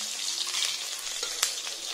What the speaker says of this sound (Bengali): এখানে যে মাছ ভাজা হচ্ছে